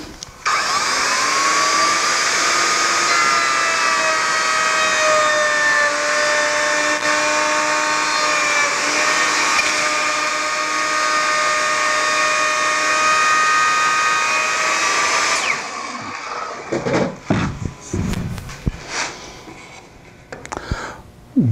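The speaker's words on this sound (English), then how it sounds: "I'm now ready to go ahead and cut the rabbet in the back side of the panel" A power tool cuts a rabbet along the back of a wooden computer desk panel, a loud, sustained high-pitched motor whine that holds steady for about fifteen seconds, then stops, leaving scattered clicks and handling knocks.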